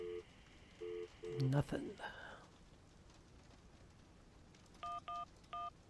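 Telephone keypad dialing in the video game Syberia: a short series of evenly spaced dial tones, a brief burst of clatter, then three more tones a few seconds later, with a voice speaking briefly over it.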